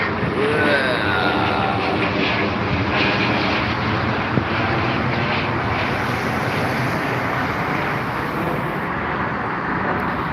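An Airbus A320 airliner passes at Heathrow airport, a broad continuous jet roar holding steady for about ten seconds and filling the scene, with faint traffic noise mixed beneath.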